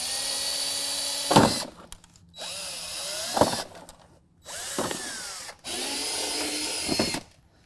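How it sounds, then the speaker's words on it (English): A power drill fitted with a 5/32 bit bores through plastic body clips on a Jeep inner fender, four separate whirring bursts of a second or so each, the bit catching with a sharp rise in pitch as it pushes through, quiet gaps between. "We're just going to find the center of these plastic clips and just drill them out."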